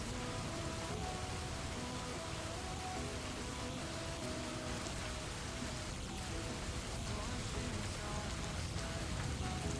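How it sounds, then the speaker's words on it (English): Loud, steady rain pours down in the Royale High video game, a dense continuous hiss of drops on surfaces with no speech. "this rain got really loud"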